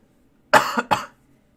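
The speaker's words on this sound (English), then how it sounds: "It's just an annoying cough." A single close, harsh cough with two quick bursts, then silence.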